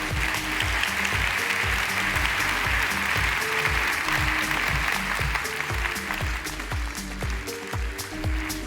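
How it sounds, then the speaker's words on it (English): A large forum audience applauds warmly as the president is welcomed, with sustained, dense, loud clapping over a rhythmic musical beat. "Please welcome, with a very warm applause,"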